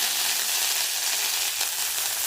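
Dried red chillies and curry leaves fry in hot oil with mustard seeds already popped, giving a steady, close, bright sizzle with no pauses.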